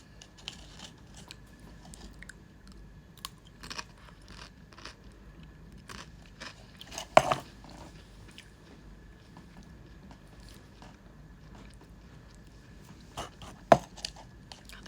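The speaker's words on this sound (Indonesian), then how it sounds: "Ngunyah terus. Ngunyah lagi ah." Food being chewed close up during an Indonesian livestream, giving soft irregular crunches and bites at low level, with a couple of sharper clicks standing out above faint background noise.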